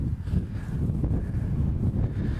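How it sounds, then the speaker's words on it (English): Strong wind blows straight across the 17th hole of a golf course, a continuous low buffeting roar that rumbles heavily against the microphone throughout. "It's straight into wind today"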